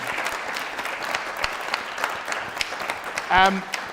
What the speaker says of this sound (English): ladies and gentlemen, I want you to give them a big round of applause